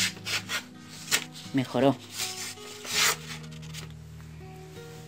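A knife blade is rubbed against an abrasive belt on an expanding pulley in short, rasping passes with pauses between them, with a single brief spoken word.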